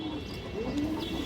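Indian high flyer Kaldom pigeons give soft, low coos, a brief murmuring call close by over faint background noise.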